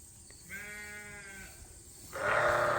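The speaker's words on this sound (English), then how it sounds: "Sheep definitely know when there's someone new." Sheep on a farm let out a couple of drawn-out, wavering bleats, the second louder and closer than the first, with quiet barnyard background between them.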